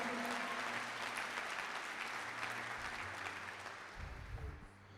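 Church congregation applauding in a dense, steady wash of clapping that holds for several seconds before gradually easing, heard at moderate distance in a large room.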